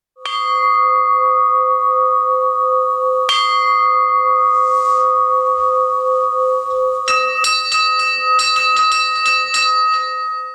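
An old church bell in a village rings with several loud metallic strikes, each leaving a long, bright, shimmering resonance, followed near the end by a quicker cluster of overlapping ringing strikes.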